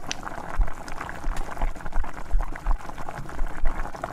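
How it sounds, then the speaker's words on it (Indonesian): Water boils at a rolling bubble in a pot holding a few leaves of napa cabbage, with close, irregular popping and gurgling and no talking. "Dan ini aku sudah masak airnya udah mendidih."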